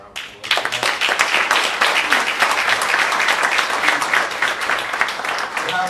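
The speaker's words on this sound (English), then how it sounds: "Give yourself a round of applause." A crowd at a mathematics scholarship awards event breaks into loud, dense applause that starts abruptly and holds steady for several seconds, with many hands clapping at once.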